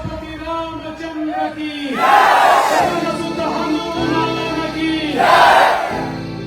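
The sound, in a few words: crowd chanting slogans and cheering at Dahi Handi event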